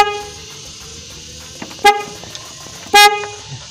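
A car horn wired through a Bosch relay set sounds two short, loud honks about a second apart, each sharp and bright, against a quiet background hum.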